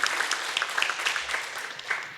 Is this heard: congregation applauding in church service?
yes